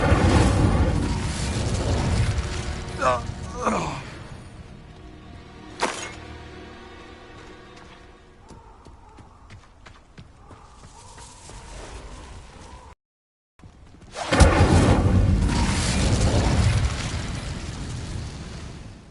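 Incendio fire spell cast in Hogwarts Legacy, heard as bursts of fiery whooshing and crackling blasts with a sudden loud burst near the start, then a short dropout and another loud sustained blast of flames amid combat effects.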